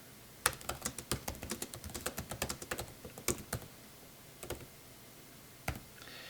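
Keys clack on a computer keyboard in a quick run of distinct taps while a title is typed, then a few scattered later presses, with no talking.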